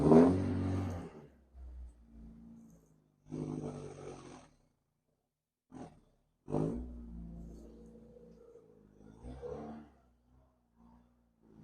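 Sunbeam Alpine engine cranks, fires and revs in several separate bursts, each a rough throaty roar that dies back to quiet, close and loud.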